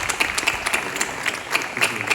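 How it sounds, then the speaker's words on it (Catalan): An audience applauds at the close of a Catalan debate, a steady patter of many hands clapping together, fairly near and without talk. "Un aplaudiment, sí."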